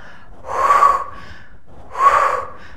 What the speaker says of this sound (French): quand je respire, l'air sort par ma bouche, mon ventre rentre